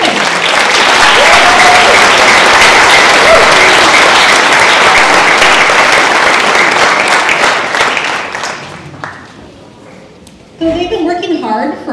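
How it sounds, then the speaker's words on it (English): Loud, sustained applause from a large audience at a school band and orchestra concert fills most of the clip, then fades out; near the end a voice begins speaking. "let's give a round of applause for our students"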